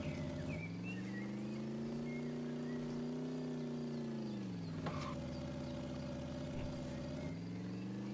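Car engine driven in the pickup truck delivery video game Truckful, a steady mid-pitched hum that dips and shifts in pitch as it changes speed, continuous and fairly close.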